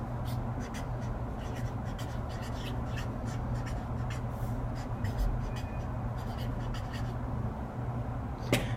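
A pen sketches a triangular prism on paper, quick repeated scratching strokes in short bursts over a low steady hum, close and fairly quiet.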